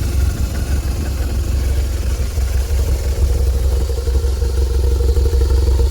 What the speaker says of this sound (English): So this is the way the bike sounds on idle